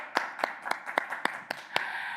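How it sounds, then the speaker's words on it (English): Audience hands clapping for a donor at a charity fundraiser, about eight distinct, fairly sparse claps in an irregular rhythm, moderately close and fading into a low room hum. "let's give our donor a huge round of applause again"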